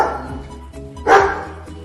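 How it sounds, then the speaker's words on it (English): A dog gives one loud, close bark in the middle, with a steady low hum running under it. "Can you bark like a dog?"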